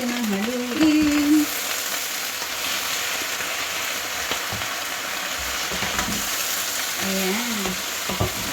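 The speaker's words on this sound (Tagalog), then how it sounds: "And haluin natin ang haluin." Sweet and sour stir fry being stirred in a hot pan, a steady loud sizzle and frying crackle running throughout with occasional scraping from the stirring.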